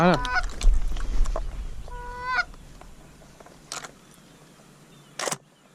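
Geese honk repeatedly at mid distance on a late-season goose hunt near a dam, a cluster of calls at first, then scattered single honks over outdoor background noise.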